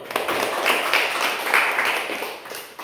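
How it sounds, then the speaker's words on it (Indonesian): A class claps for a student, a brisk round of many hands close by that swells in small surges and fades near the end. "Tepuk tangan untuk Nia dulu."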